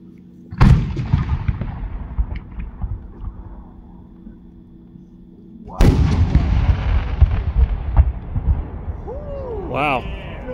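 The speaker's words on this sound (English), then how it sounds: "Second entry is a single break, 8-inch, blue to yellow, outer pedal, red to blue to glitter pistol with a" Two loud, booming bursts of an 8-inch single-break firework shell at a fireworks competition, each blast followed by crackling and a long rumbling echo; a whistling rising sound near the end, with distant voices in the background.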